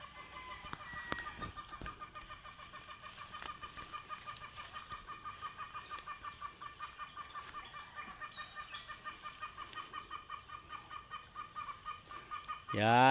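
Chickens cluck steadily on a farm during a harvest, many birds calling at once in a continuous chattering chorus that runs unbroken and fairly loud, with a louder burst right at the end.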